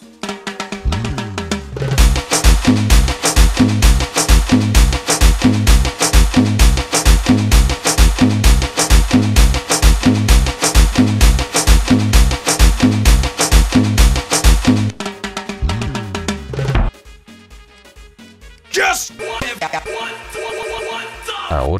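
A guaracha aleteo beat with added elements pounds out loud and alone in a dense, driving rhythmic loop of kicks and synth stabs, then drops to a thinner break before returning.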